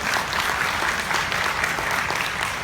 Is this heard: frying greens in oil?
no